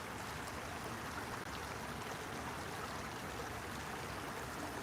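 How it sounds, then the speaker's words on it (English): Flowing water rushes steadily outdoors, a soft, continuous broadband wash with faint trickling detail and no voices over it. "Y'all get to hear the water"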